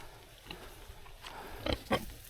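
Pigs out in a field give a few low, short grunts and snorts at close range, irregular and scattered, with two louder grunts toward the end over quiet outdoor background.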